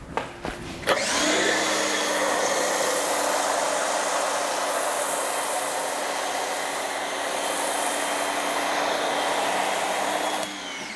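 An MTM PF22 foam cannon on a car wash setup sprays thick foam with a steady, loud, continuous hissing rush that lasts about ten seconds and then cuts off. A few faint clicks come just before it starts.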